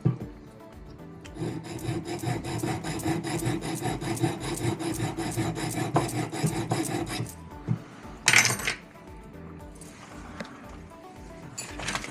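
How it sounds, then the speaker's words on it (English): Three-corner file cutting a dovetail groove into a metal torque bangle during reshanking: a close, steady run of rapid rasping strokes for several seconds, then a brief louder scrape and quieter scattered filing. "always start off with a 3-corner file to start the groove for the dovetail"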